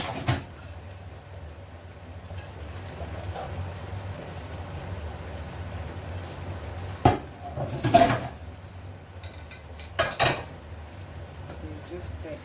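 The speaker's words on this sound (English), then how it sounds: "So just stir it together." A spoon stirs spinach into garden egg sauce in a pot, over a steady low background hiss, with a few sharp clanks of the utensil against the pot near the end.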